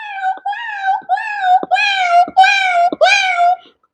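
A man mimics a cat with his voice, making a series of about five drawn-out, wavering meows and wails in quick succession, loud and close with no other sounds.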